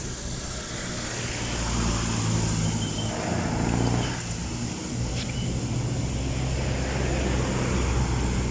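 Road traffic flowing freely along a street in Santa Cruz, Manila, a steady broadband rumble of passing cars and trucks with a hiss of air brakes, continuous and moderately loud throughout.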